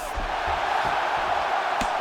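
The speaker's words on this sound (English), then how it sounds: "the crowd pops in appreciation as the fighters work their way back to the This is field" A UFC 5 arena crowd roars in a steady, dense wash of cheering, with a few dull thuds beneath, continuous throughout.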